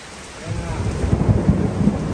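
Deep rolling thunder from lightning during a storm rumbles in low and builds over steady rain, loud and close with no voices.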